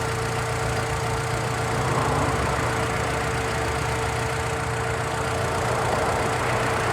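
A warmed-up car engine with the oil warning light on idles steadily with a constant low hum and a faint whine, running alone without variation for the whole stretch.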